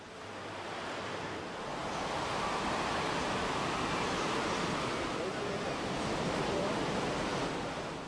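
Ocean surf at a Réunion beach near Saint-Gilles, popular with surfers and bodyboarders: a continuous, loud roar of breaking waves and wash with wind noise, swelling slightly after the first couple of seconds and holding steady.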